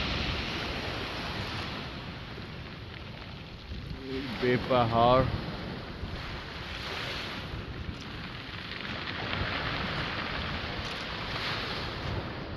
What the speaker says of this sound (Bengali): আজকে সাগরে প্রচণ্ড ঢেউ।